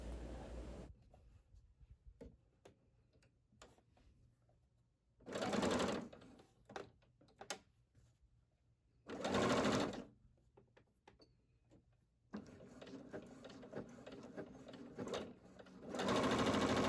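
A sewing machine stitches a recycled denim envelope pillow cover, running in several short bursts of steady whirring separated by quieter pauses filled with small handling clicks and fabric shuffling.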